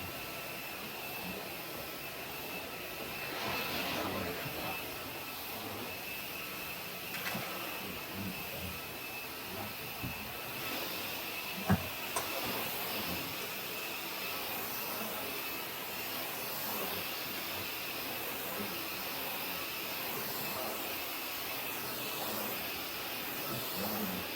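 A DeWalt cordless battery vacuum cleaner on full power whirs steadily and continuously at close range, its motor drone unchanging throughout with faint bumps and shuffling underneath.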